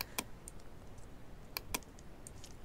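Keyboard shortcuts pressed during Photoshop work: a handful of sharp, isolated key clicks, some in quick pairs, spaced out over a faint background hiss.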